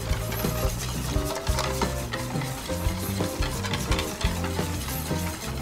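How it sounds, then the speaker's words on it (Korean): Whisk stirring crepe batter with oil in a bowl, a steady busy scraping and swishing that runs continuously and close, with no talk. "그 거품기로 좀 열심히 잘 저어주셔야 돼요"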